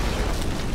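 Bomb blast in the Prototype 2 video game, a dense, roaring burst that fills the short moment with loud, broadband rumble and no clear onset or decay, heard alone.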